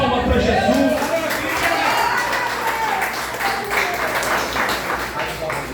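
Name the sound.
church congregation applauding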